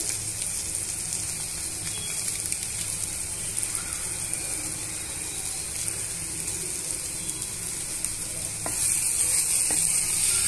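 Garam masala and spices sizzling and frying in a pan while being stirred, a steady close hiss with faint scraping that swells louder near the end.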